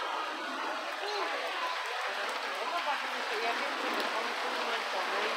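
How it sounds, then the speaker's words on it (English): Heavy rain pours down in a steady, dense hiss with no letup, with faint scattered background noise. "it's raining so hard"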